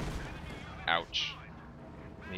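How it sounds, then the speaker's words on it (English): A landmine in the real-time strategy game Company of Heroes 2 is tripped by a command tank's explosion, giving a sharp blast followed by a second burst amid a dense, continuous wash of battlefield noise. "The mine just laid by those combat engineers got tripped by the explosion from this command tank, killing half the squad"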